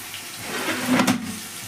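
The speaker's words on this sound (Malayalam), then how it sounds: "വെള്ളം തിളച്ച് നിൽക്കുകയാണ്" Water bubbles and gurgles at a boil, a close, steady churning hiss that swells briefly midway.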